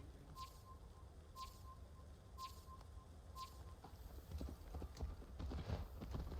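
Horse hooves clip-clop in a steady, even trot, fairly close, over a low rumbling background that grows busier and louder toward the end, in the video game Assassin's Creed Valhalla.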